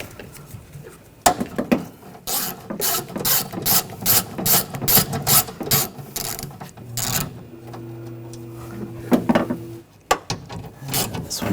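A ratchet fitted with a 10mm socket backs out window regulator bolts on a 2014-2020 Nissan Rogue rear door, giving quick runs of close, loud clicking bursts with short pauses in between, and no talking.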